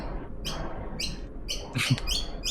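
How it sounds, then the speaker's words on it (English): A raven calls several times in short bursts spaced across the moment, fairly faint against a soft background hiss. "Yeah, that sounds like a raven."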